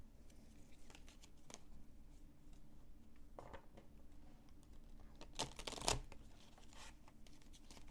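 Tarot cards are shuffled by hand at close range in a quiet room: faint scattered papery rustles and taps, then a brief louder riffle burst near the end.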